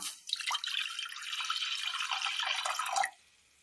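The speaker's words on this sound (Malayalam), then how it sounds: "അടുപ്പത്തൊരു ചട്ടി വെച്ച് കൊടുത്ത് അതിലേക്ക് അല്പം വെള്ളം ഒഴിച്ചു കൊടുക്കാം" A short, steady pour of water splashing into a pan on a stove, close by, lasting about three seconds before stopping.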